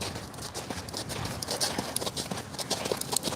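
A horse canters on a longe circle during groundwork, its hooves beating a steady rhythmic clip-clop at moderate distance, with faint ambient noise around.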